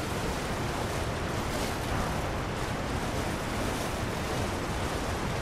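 A waterfall in the video game Elden Ring: Shadow of the Erdtree, heard as a steady, dense roar of rushing water with no breaks, filling the scene evenly and fairly loud.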